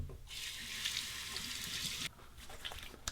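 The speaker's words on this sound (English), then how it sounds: "A final rinse, warm and then cold water." Warm and then cold tap water runs steadily for a final face rinse after a shave, a soft nearby hiss that briefly dips, then returns with light splashing.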